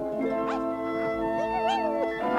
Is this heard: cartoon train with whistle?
no